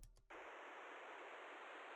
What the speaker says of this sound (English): But this one is just white noise.